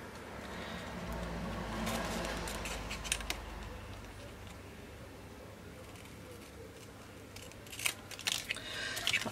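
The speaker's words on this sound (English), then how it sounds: "Some scissors, and I'm just going to cut that." Scissors snip through paper for a handmade card, a quiet run of crisp cuts with sharper clicks near the end and no talking.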